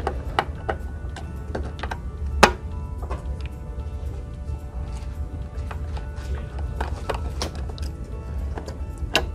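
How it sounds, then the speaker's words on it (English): A screwdriver turns out the drive caddy screws of a Posiflex XT-3815 point-of-sale terminal. Sharp little metallic ticks and clicks come at an uneven rhythm, close by, over a low steady hum. "So if I put the screwdriver in, I should be able to unscrew it."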